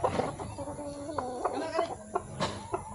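A chicken clucks repeatedly in short, close, moderately loud calls at a hillside farm, with the soft clucks coming in an uneven rhythm over quiet outdoor background.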